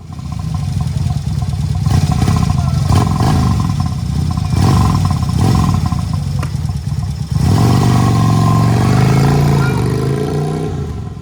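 Motorcycle riding and revving along a road in Thailand near the River Kwai, a loud continuous engine roar with rising and falling revs and wind buffeting, close and steady for the whole stretch.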